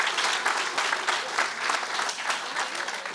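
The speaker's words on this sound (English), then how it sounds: "please, yes, round of applause" Steady audience applause at an outdoor groundbreaking ceremony for a new pump station and towpath trail, a dense wash of many hands clapping continuously at moderate level, without breaks.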